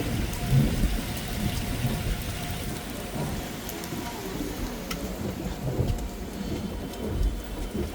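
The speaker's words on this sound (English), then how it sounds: "Sorry about that, it's just the rain." Steady rain pours down at a London bus stop beside a new BYD electric bus on route 188, a constant close hiss of drops that never lets up.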